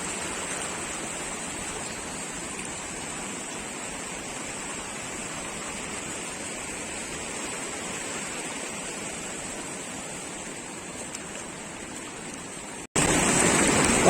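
Steady broadband roar of the Beas and Manalsu rivers rushing together at their confluence near Nehru Kund, Manali, close and continuous throughout with no talk, briefly cutting out near the end before resuming.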